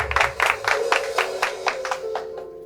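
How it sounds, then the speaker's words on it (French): Applause for a band's instrumentalists, the drummer and bassist, at a live Saturday show: a short burst of several clustered claps, moderately near, fading out over a steady tonal hum. "on les applaudit."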